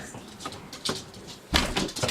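A patio door slides open at home on a windy, cold day to let a dog in, giving a few soft clunks and rattles, with a louder bump and scrape near the end, close by and alone.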